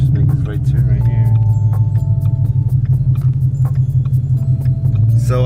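A 2017 Ford Mustang GT with a Ford Performance Stage 2 power pack drives and turns, its steady low engine rumble loud and continuous throughout under a speaking voice.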